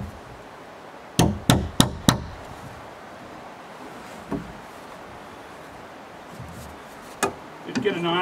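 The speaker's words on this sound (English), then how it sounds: "So now I'll hammer this one in here." Wooden thuds of a hammer driving a log into place while building a log cabin: a quick burst of four sharp blows, then a few scattered knocks further apart, loud and close outdoors.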